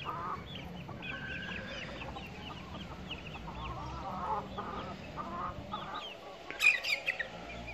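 Hens clucking steadily in a noisy farmyard, including a Gurk hen, with repeated soft calls over a constant background rumble and a brief louder squawk near the end.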